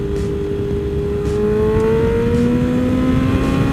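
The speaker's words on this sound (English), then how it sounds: "Oh, listen to those downshifts." A BMW S1000RR motorcycle with a steady loud engine drone whose pitch glides down smoothly as it downshifts, recorded close and continuous with wind noise and no talking.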